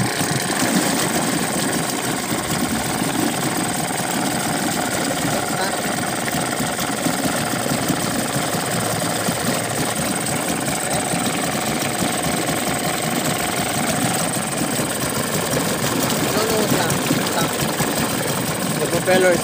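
An outboard motor under repair runs with its propeller in forward gear, a steady mid-pitched engine drone with a buzzing vibration throughout, and voices heard over it.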